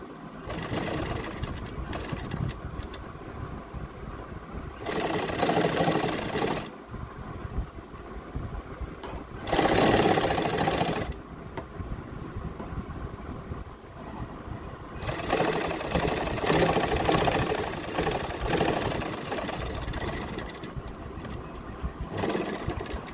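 A sewing machine runs in several bursts as it stitches an invisible zip onto a kurti, with a steady mechanical whir swelling and pausing, close and fairly loud, with no talk.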